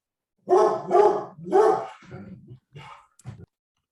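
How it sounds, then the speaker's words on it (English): A single dog barks several times close by, with three loud barks followed by a few shorter, softer yips and gruff sounds, and silence before and after. "you don't have to hear my dog barking"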